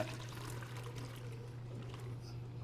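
A steeped mixture that sat overnight is poured and strained through seeds and cinnamon sticks in a kitchen, a steady watery trickle over a constant low hum.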